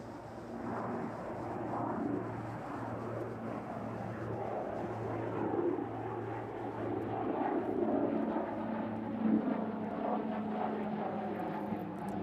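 An ATR turboprop airliner enters runway 27 at East Midlands Airport in strong storm winds, a steady distant propeller drone blending with continuous wind rumble, no talk.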